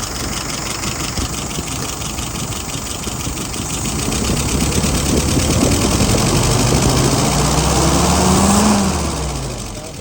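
An older car engine idling and warming up after a dwell adjustment, a loud, steady, close mechanical idle with a slight rise and fall in speed toward the end.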